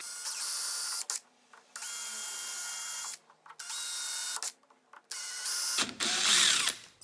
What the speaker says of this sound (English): You don't want to end up drilling through your material.